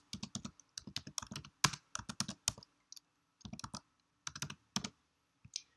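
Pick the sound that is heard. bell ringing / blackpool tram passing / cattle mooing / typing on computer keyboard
typing on computer keyboard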